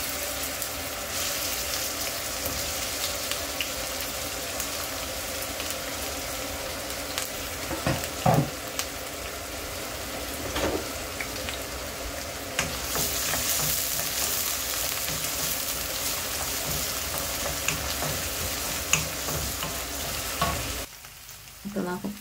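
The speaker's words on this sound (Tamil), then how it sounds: "ஆயில் சூடானதும் வெங்காயம் பச்சை மிளகாய் போட்டு வதக்கிக்கலாம்." Sliced onion and green chillies sautéing in hot oil, a continuous close sizzle with scraping stirs and occasional clinks of a spoon against the pan, steady throughout before a brief drop near the end.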